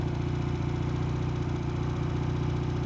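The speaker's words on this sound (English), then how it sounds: "I'm revving it a bit because I'm just frightened of it stalling." A classic motorcycle engine runs at a fast, even idle with a steady throbbing rumble, held slightly revved, loud and close with no talk.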